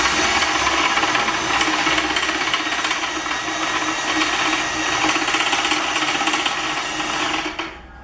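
A drill drives a Gap Power shingle hoist, lifting the tray with a steady, loud mechanical whir that holds for several seconds and then stops abruptly near the end.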